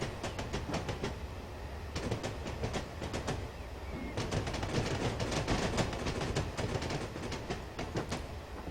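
A BR Black 5 steam train in Train Simulator 2015 on the Western Lines of Scotland, slowing down with quiet rolling rumble and bursts of rhythmic metallic clicks from the wheels passing rail joints.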